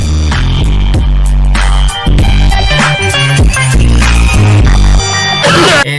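Deathstep track with a heavy synth bass imitating machine-gun fire, rapid stuttering bursts pounding under dense full-mix production, loud and continuous with a brief dropout near the two-second mark.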